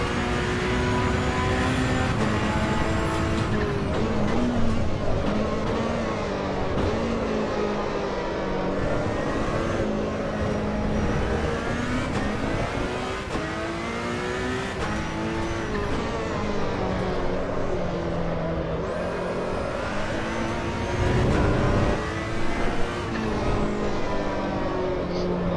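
Car engine revs and shifts while driving in Assetto Corsa EVO, a loud, continuous whine rising and falling through gears, with a person talking over it at times.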